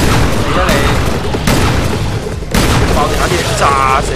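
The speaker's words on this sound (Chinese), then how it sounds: "爆炸啲嘢炸死你" Loud blasts and crackling detonations go off in the Resident Evil Revelations 2 raid mode, several heavy bursts in a row over a dense rumbling background, with a player speaking through it.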